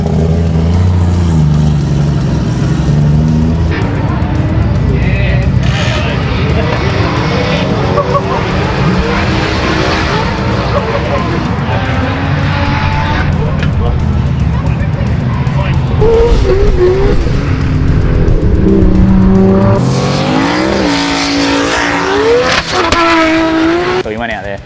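A drift car at the Powerplay event screams through a long run, its engine revving hard and its tires squealing and skidding almost without break, loud and close, with bursts of acceleration and voices talking beneath the din.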